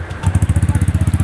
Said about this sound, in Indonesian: Dinyalain dulu motor.